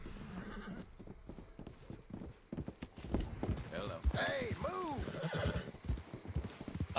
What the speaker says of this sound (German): Also mein Pferd ist heute wirklich richtig nervös.